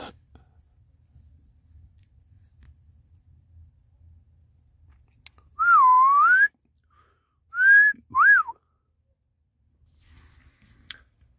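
A person whistles a few short sliding notes: one longer swooping phrase, then two quick chirps after a pause, in an otherwise quiet room with faint background rustle.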